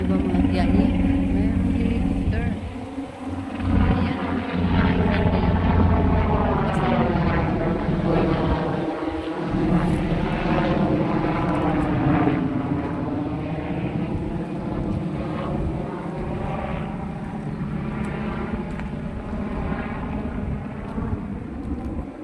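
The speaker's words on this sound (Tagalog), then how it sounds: "Mayroong helicopter" A helicopter flying near a lake in Japan thrums with a steady low rotor chop and engine drone, fairly loud and continuous, while a person talks intermittently nearby.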